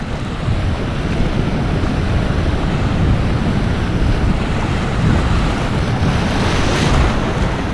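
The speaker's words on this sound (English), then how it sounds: "Look at the waves." Ocean waves break on an island shore in a loud, steady roar of surf mixed with heavy wind buffeting the microphone, sustained throughout without talk.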